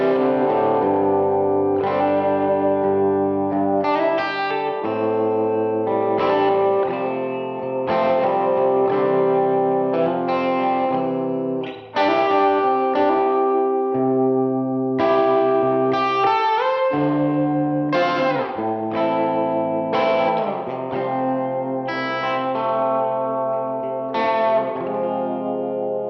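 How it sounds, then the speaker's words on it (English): Electric guitar playing chords and melodic phrases through a Source Audio Pathways pedal, drenched in splashy spring reverb with a pulsing, wavering harmonic tremolo throughout, steady and fairly loud. "a fairly classic or traditional pairing here with a spring reverb sound and a harmonic tremolo sound"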